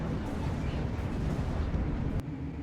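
In a Halo-themed WARNO battle, Banshee aircraft are shot down amid a dense, continuous roar of explosions and rumbling blasts, loud and sustained with a sharp crack near the end.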